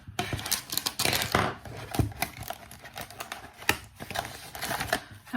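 A few crackly, scratchy bursts of sticky tape being pulled free, with sharp ripping spikes amid rustling, close by with no talking.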